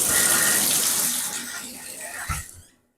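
Water from an ARNONJABBOK rain shower head pours strongly in a bathroom shower, a loud broad hiss that eases off before cutting out after a few seconds, with a brief thump near the end.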